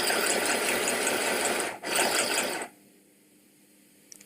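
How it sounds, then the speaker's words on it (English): A mini sewing machine stitches with a fast, steady mechanical whirr. The run is briefly interrupted once, then stops, leaving near silence. "so now I'm going to sew."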